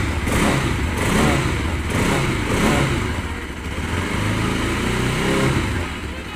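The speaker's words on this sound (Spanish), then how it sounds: "En el momento de que le vamos a estar acelerando, pues el sonido lo va a estar sacando ya automáticamente." A Bajaj Pulsar RS200, a small sport motorcycle, revs its engine and exhaust close by, with the hoarse note rising and falling in several swells over a steady running rumble.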